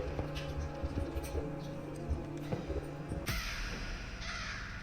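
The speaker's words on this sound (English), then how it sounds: "Crows, crows, crows." Crows caw in the video game The Stanley Parable, several harsh calls repeating over a low humming background, with a louder burst near the end.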